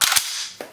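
An M1 Garand rifle of Korean War vintage fires in close, loud cracks, two quick sharp bangs followed by a fainter third report as the sound rings out.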